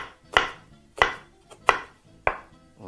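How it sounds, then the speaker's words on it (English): A sharp knife chops half a white onion on a cutting board with four or five crisp, evenly spaced strikes about every two thirds of a second. The cuts are close and loud, with no speech. "we are going to be chopping up some of our onions as well"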